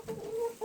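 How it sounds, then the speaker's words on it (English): ISA Brown chickens cluck nearby in a brief, close burst of low, throaty calls, one drawn-out cluck followed by the start of another. "The chickens that we have are the ISA brown chicken"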